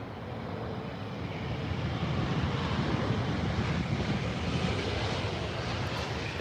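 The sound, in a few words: airliner landing at Heathrow Airport with flaps down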